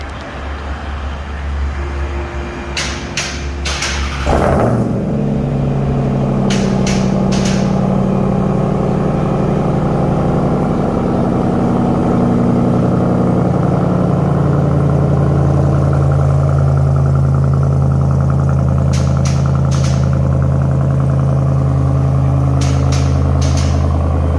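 A Ram TRX V8 with a freshly installed AWE exhaust cranks and fires up, then settles into a loud, deep, steady idle rumble close by.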